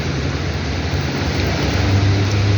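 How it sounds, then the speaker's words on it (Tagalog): A vehicle passes along a road in the rain, a broad wash of tyre and road noise over steady rainfall that swells slightly toward the end with a low engine rumble. "Yan, sasakyan eh."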